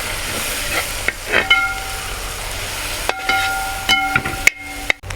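Crushed ginger and garlic go into beef tripe frying in a pan, a soft sizzle with scattered clinks and scrapes of a utensil, and a few sharper knocks toward the end, nearby with no talk.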